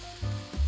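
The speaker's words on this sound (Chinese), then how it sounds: "等翻炒均匀后，加入1瓶啤酒" A bottle of beer poured into a hot wok of thirteen-spice crayfish, giving a brief, close sizzling hiss with low bubbling surges, and no voices.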